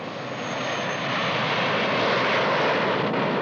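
A steady, loud drone from an aircraft engine in flight holds without a break, broadband and constant with a slight swell.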